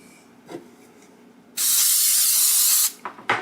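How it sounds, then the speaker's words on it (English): Cooking spray hisses onto keto donuts in one steady, loud burst of about a second and a half, with faint handling noises before and after. "I take just this little bit of a cooking spray and I just spray them a bit."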